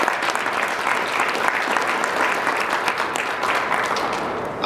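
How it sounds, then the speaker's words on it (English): An audience at a press conference on human trafficking gives sustained, even applause for the staff of Indiana Youth Service, dense clapping filling the room throughout. "Let's give them a round of applause"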